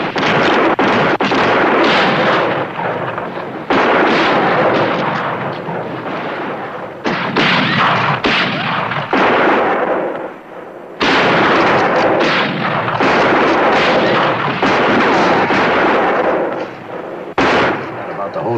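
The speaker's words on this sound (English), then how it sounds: "Shoot him out of there!" Heavy gunfire crashes through a shootout in a western TV series, with dense loud bursts of overlapping shots that echo and break off briefly before starting again.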